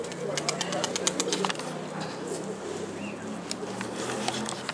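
Pigeons coo and flutter close by in a rooftop pigeon loft, soft, repeated calls and light patter under a steady background as people talk nearby.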